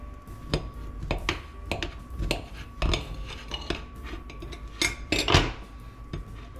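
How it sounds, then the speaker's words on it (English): A knife works through warm banana bread, producing a series of sharp clicks and taps as the blade strikes a plate or board, spaced irregularly and heard up close with no talking. "I slice the banana bread."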